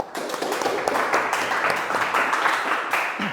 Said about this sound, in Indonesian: kasih tepuk tangan untuk Dendi dan kelompoknya